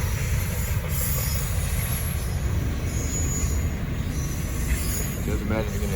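A Norfolk Southern freight train rolls past close by with a KCSM distributed power unit, a steady loud rumble of wheels and cars with brief flange squeals, and some faint voices underneath.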